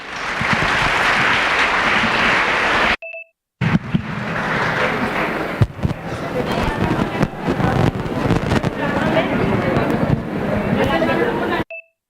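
An audience applauds to welcome a drama performer, loud dense clapping with rumbling, wind-like noise, broken by abrupt cuts to silence and short beeps.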